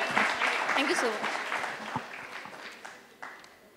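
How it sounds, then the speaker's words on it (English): An audience claps and applauds steadily, the applause gradually thinning out with a few scattered claps near the end. "a round of applause for my panelists, not for me"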